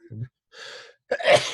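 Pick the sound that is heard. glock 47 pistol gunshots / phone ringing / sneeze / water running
sneeze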